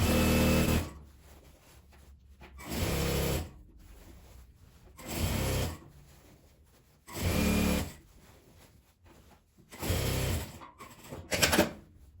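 A sewing machine stitches around a fabric panettone gift bag in five separate bursts of rapid whirring, each lasting about a second, with quiet handling and fabric movement between them.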